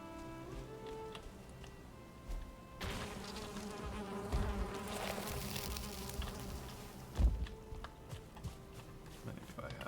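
Bees buzz in the Valheim game world, a continuous insect drone of varying intensity with a few sharper clicks and no clear voices.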